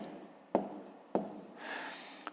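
A pen writes out a fifth-grade math exercise on paper, faint scratchy strokes broken by a few sharp taps, while a voice speaks quietly.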